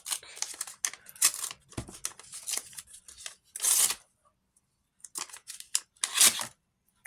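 Crisp crinkling and tearing of a small paper surprise packet being opened, in several short rustling bursts with pauses between, close and fairly loud, no talking.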